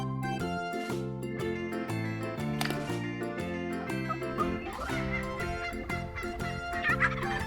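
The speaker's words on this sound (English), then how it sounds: "It makes gobbling sounds to communicate." A turkey gobbles over a steady background of loud music, its calls blending into the sustained tones for the whole stretch.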